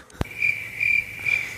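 Crickets chirp in a steady, high, pulsing trill that rises and falls in loudness, opening with a single sharp thump. No voices are present.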